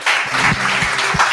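A church congregation at an evening service claps together in a short, steady burst of applause, fairly loud and dense throughout.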